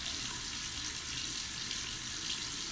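Tap water runs steadily into a sink while a makeup brush is washed, a continuous hissing splash at close range with no break and no voices.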